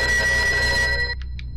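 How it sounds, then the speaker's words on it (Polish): A toy telephone rings loudly with a dense, continuous metallic ringing that cuts off abruptly, followed by a couple of faint short tones in near silence. "To zabawkowy telefon, który nagle spogląda na nas i wydaje z siebie przerażająco głośne dzwonienie."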